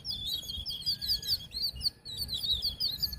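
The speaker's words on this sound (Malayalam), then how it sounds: "പക്ഷികളുടെ മായാജാലം" Many small birds chirp and tweet in quick, overlapping bursts from a grassy hillside high above houses, a lively but moderately distant chorus over faint background rumble, with no talking.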